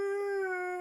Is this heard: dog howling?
yes